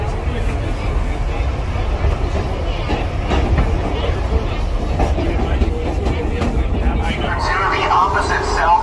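A vintage subway train rumbles and clatters as it pulls out of 96th Street station on a holiday run, wheels clicking over rail joints with a loud, continuous roar and some squealing near the end.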